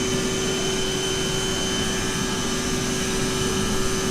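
Steady, loud cockpit drone of a Lufthansa CRJ900 jet in Microsoft Flight Simulator 2020, a continuous engine whine and hum with a fixed tone, unbroken and alone for several seconds.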